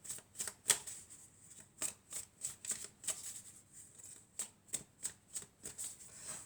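Oracle cards being shuffled and cut by hand, a series of quick, crisp riffling flicks in an irregular rhythm, close and fairly soft in a quiet room.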